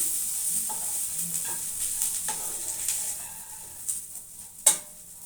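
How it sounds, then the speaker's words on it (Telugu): Flat beans frying in a pan with coconut chili powder while a spoon stirs, soft steady sizzling with several scraping strokes and a sharp metallic clink near the end, close up with no voices. "కొబ్బరి కారం వేసుకున్నాక 1 నిమిషం ఫ్రై చేసుకోవాలి."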